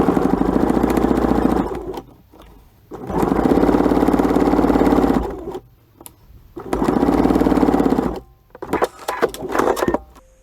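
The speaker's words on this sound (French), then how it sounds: "Je viens coudre au niveau de la pliure du biais." Sewing machine stitching along the fold of bias binding on a three-layer fabric face mask, running in three steady buzzing bursts of about two seconds each, separated by short pauses and small handling clicks.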